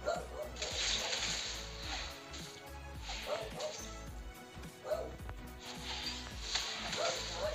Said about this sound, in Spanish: Oh, perdón si escuchan un perro.